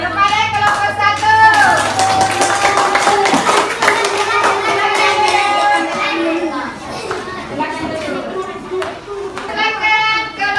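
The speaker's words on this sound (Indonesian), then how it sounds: "Oke, kita beri tepuk tangan kepada kelompok 1." A class of schoolchildren gives a round of applause to a student group after its presentation, dense clapping mixed with loud children's voices and chatter throughout.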